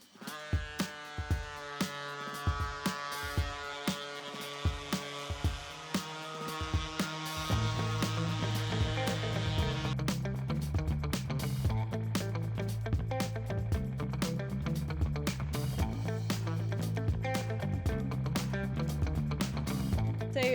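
A power sander fitted with coarse 40-grit sandpaper: a few seconds of rhythmic tapping, then a loud, steady buzzing whir that runs continuously to the end.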